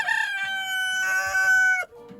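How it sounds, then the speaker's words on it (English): A single rooster crows one long, loud, close cock-a-doodle-doo that holds steady and then cuts off sharply, with faint background noise after. "Beautiful big boys."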